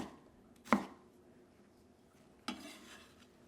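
A knife dicing red onion makes two separate sharp chops on a board, close but fairly quiet, with a low kitchen hum between them and no speech.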